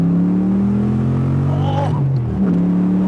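A widebody Porsche 911 with a naturally aspirated engine pulls hard under acceleration, its steady loud drone rising in pitch before a brief dip and recovery as it keeps revving close by inside the car.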